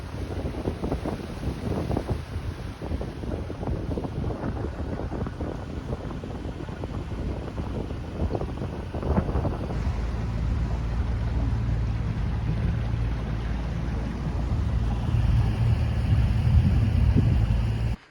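Motorboat crossing a lake, its motor rumbling steadily over gusting wind and splashing water, the low hum growing stronger toward the end; no voices.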